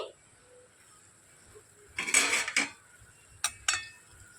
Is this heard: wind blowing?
no